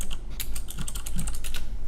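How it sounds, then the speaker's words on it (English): Fingers type quickly on a computer keyboard, producing a rapid, close run of clicky keystrokes over a low background hum. No one speaks. "I hear the keyboard."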